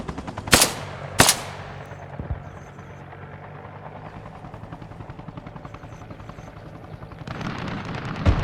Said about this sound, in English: That's a friendly helicopter.